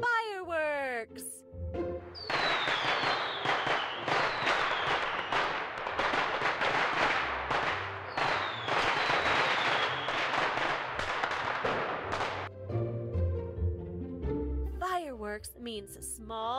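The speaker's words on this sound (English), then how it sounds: "Fireworks means small containers filled with explosive chemicals that make a loud noise when they explode and produce bright, colored patterns." Fireworks burst in a rapid continuous barrage of crackling booms and whistling rockets. Cheerful music and sound effects play under it, and at the start and end a voice chimes in with bright tones.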